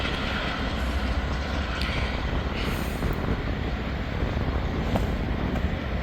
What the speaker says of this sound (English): There goes Norfolk Southern Train 189, Norfolk Southern Train 60C.